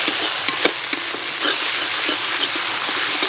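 Spice paste of cumin, coriander, chilli, turmeric and salt sizzles steadily in oil for a rui fish curry with cauliflower, a constant crackling hiss with a few soft stirring scrapes, close and moderately loud.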